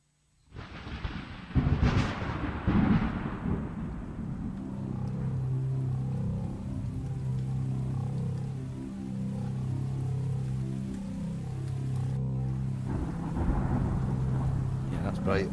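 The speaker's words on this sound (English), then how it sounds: "So you've got a slow fade of the rain just coming in after that." A sharp thunderclap cracks out and rolls away, then steady rain hisses along under a low musical drone for a jungle track, the downpour swelling again near the end.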